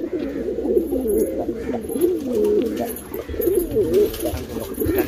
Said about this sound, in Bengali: ঠিক আছে, মাদি পায়রা এটা।